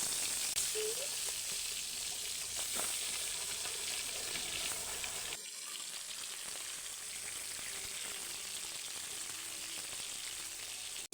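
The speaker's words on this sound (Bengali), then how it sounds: "এক এক করে মাছগুলো ছেড়ে দিব।" Giant freshwater prawns hiss steadily in hot oil, a soft, even, dense sizzle that carries on throughout, with a slight drop in level partway through and only faint stray clinks.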